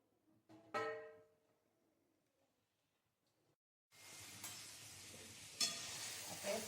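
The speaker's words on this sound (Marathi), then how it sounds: "आता हे स्मॅश करून मी रताळे तुपामध्ये टाकले. छान भाजायचं." Smashed sweet potato dropped into hot ghee, a brief clatter followed by a steady, close sizzle of frying.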